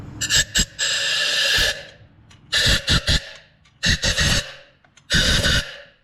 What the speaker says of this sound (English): you want to get down in here with some compressed air